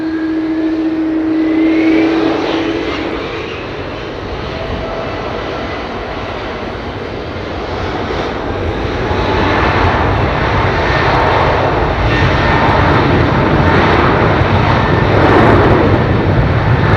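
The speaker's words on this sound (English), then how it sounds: "Listen to these lovely old Pratt & Whitneys." Old airliners with Pratt & Whitney engines roar steadily at Heathrow, a loud sustained engine drone that swells in power toward the end, heard from nearby with no talking.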